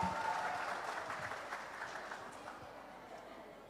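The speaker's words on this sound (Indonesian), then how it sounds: "kita berikan tepuk tangan yang luar biasa" Church gathering audience applauds warmly for a welcome speech, dense clapping that starts strong and gradually fades over a few seconds.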